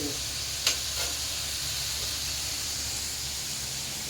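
Onions sauté in a pan for kothu parotta at home, producing a soft, steady sizzle and hiss with a couple of faint stirring taps early on.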